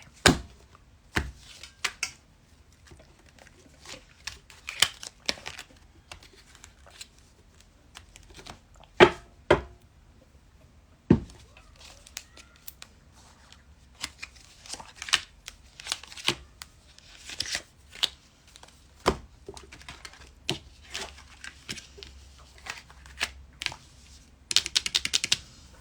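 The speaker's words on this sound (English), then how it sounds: "Cut the deck." A tarot deck, a Smith Waite style set, is cut and shuffled in repeated crisp riffles and card slaps, close and sharp with short pauses between bursts and no talking.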